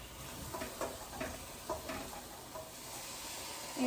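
Pasta and green beans tumble into a hot pan of lightly browned potatoes, giving a soft crackling sizzle with a few stirring scrapes, close and fairly quiet.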